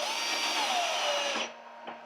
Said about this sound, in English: Okay, so I'll get these bigger screws in.